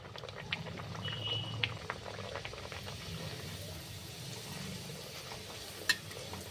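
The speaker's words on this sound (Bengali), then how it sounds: "লুচি ভাজার জন্য কড়ায় তেল বসিয়েছি, তেলটা গরমও হয়ে গেছে।" Luchi, puffed puri, frying in hot oil in a wok, a quiet continuous bubbling sizzle with occasional crackles and a sharp tick near the end.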